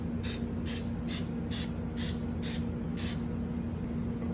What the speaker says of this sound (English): get a little bit of vegetable spray,